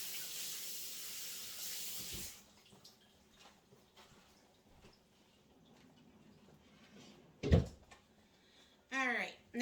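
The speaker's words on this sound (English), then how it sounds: "let me wash my hands really quick" A kitchen tap runs steadily for about two seconds while hands are washed, then cuts off, leaving quiet kitchen sounds, and a voice speaks near the end.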